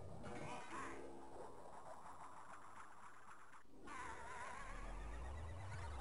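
A cartoon cat meows in the Wario Land 4 video game, its short cries sitting over busy game music and effects that run steadily throughout.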